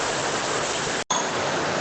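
Heavy March rain pours over the southern delta of Tamil Nadu as a dense, steady, close-up hiss. It cuts out for a split second midway, then resumes just as hard.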